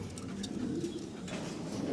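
Pigeons kept in a large loft collection coo softly in a low, continuous murmur, faint and steady with no voices over it.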